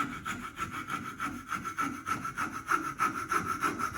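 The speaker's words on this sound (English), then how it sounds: "I'm cutting a little outside my line to give myself some room to sand and remove a little material" Hand saw cutting wood while roughing out a redhead duck decoy head, a steady rhythmic rasp of back-and-forth strokes, close and loud, with no talking.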